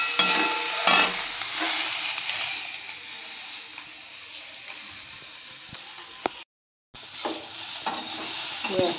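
Green chillies and water going into a hot frying pan, giving a steady close sizzle with a few stirring scrapes and a brief dropout near the end.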